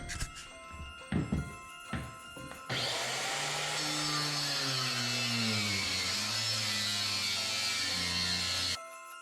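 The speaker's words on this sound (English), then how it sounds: "this room here is also all sanded, final sanded, and ready for the big sander." Large floor sander running over an original wood floor being refinished, starting after a few knocks and thumps and then roaring steadily and loudly close by until it cuts off.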